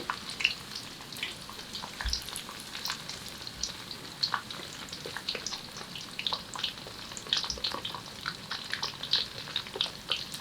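French fries frying in a small amount of oil make a continuous crackling sizzle with scattered pops. It sounds fairly quiet and close, with no talking.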